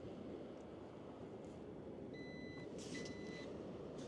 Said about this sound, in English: And then you heard 2 beeps.